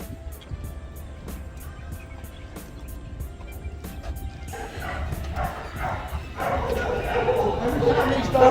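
Dogs at the Humane Society of Memphis shelter let out repeated barks, yips and whimpers, building in loudness amid steady background noise and rhythmic ticking.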